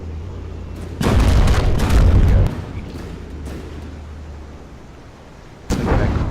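A tank's main gun fires shells in the Fauxbi Offensive video game, giving a loud booming blast followed by a rumbling decay, then a second shot near the end.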